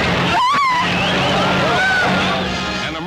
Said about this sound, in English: Trying to avert a collision, Shorty Cantlin swerves sharply and his car goes out of control.